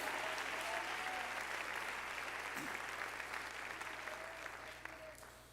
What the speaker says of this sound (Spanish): Dele ese aplauso de alabanza al Señor.